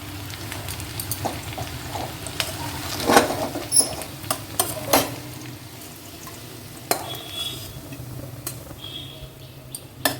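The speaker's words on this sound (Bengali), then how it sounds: "পেঁয়াজ রসুনটা একদম পারফেক্ট ভাজা হয়ে গেছে" Red amaranth stems frying with garlic and onion in a pan, a low steady sizzle under occasional clinks and scrapes of stirring, close and moderately quiet, with no talking.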